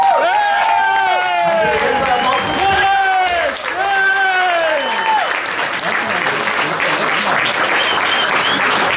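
An audience claps and cheers at a talent-show year-end final in the Pool Garden, dense and steady applause throughout, with a presenter's voice talking over it.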